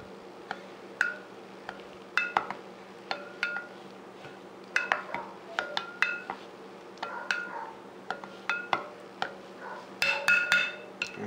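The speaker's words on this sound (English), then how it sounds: "Make sure you mix it in really well" A utensil clinks against a bowl while fake blood is stirred with food dye, making irregular light taps and scrapes, quiet and close, with no talking.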